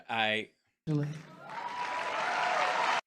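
After someone speaks into a microphone at CPAC, a large audience breaks into loud, sustained clapping that quickly swells and holds steady until the end.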